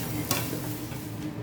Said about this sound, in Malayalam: മല്ലിയില അരിഞ്ഞത് വറുത്തിട്ട് കൊടുക്കുക.